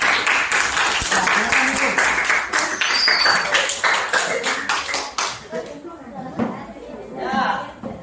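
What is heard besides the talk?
applause for a group in a classroom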